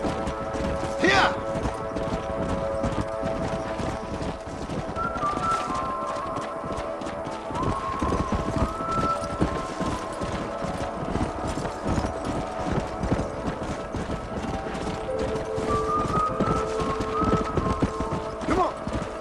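Rhythmic horse hooves clip-clop steadily on hard ground in the video game Red Dead Redemption, with a whinny early on and distant voices and ambient tones running underneath.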